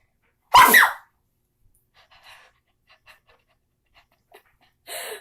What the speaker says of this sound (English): I had the weirdest sneeze ever.